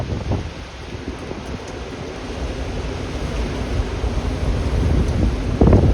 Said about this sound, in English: extreme wind for sure